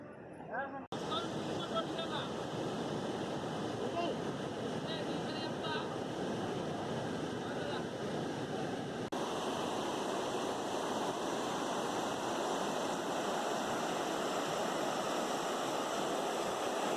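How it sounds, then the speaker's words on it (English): Kuntala waterfall's water gushes forcefully in a loud, continuous roar that fills the whole stretch without a break, with a brief cut near the start. "the water is gushing very forcefully and the rocks are very slippery"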